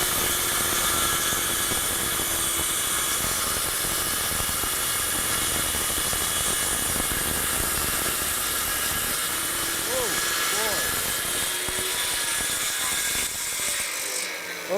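Power saw cutting a wooden bed column clamped to a plywood workbench, a loud, continuous harsh whine that fills the whole stretch, with someone talking over it.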